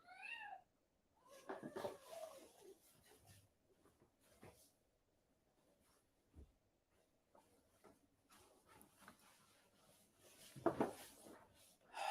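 A pet cat meows indoors, a couple of close, rising cries near the start followed by a few softer mews, with quiet room noises and brief bumps in between.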